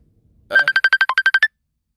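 A phone ringtone chirps in a quick run of about ten short, bright electronic pulses, close and loud, then stops into silence.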